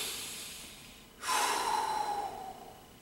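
A single close, quiet breath is drawn in through the nose and then released through the mouth during a dumbbell bench press setup, as a soft airy rush that fades out.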